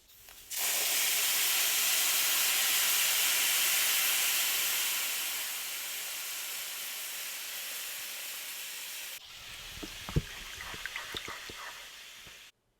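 Unsweetened plain soy milk poured onto hot toasted flour, a loud sustained sizzling hiss lasting several seconds that eases off, followed by scattered quieter crackles and spoon clinks.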